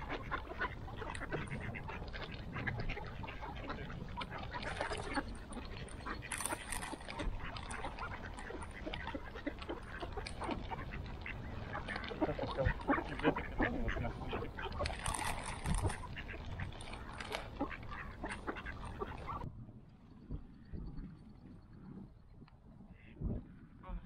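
Ducks quacking and splashing on a pond as they are fed on a late-winter day, a busy continuous chatter of calls and water noise up close, with people speaking briefly nearby before things quiet down near the end.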